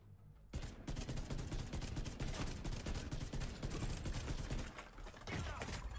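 Rapid automatic gunfire from the Ravenous exotic rifle in The Division 2 shooter game rattles almost continuously for several seconds after a short quiet start, loud and dense with mechanical clatter and a brief lull near the end.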